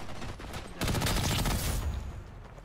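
Rapid machine gun fire in the online shooter First Assault Online, a dense burst of shots roaring up after a quieter start and then trailing off, with no speech.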